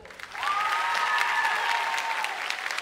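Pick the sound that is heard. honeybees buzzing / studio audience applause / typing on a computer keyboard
studio audience applause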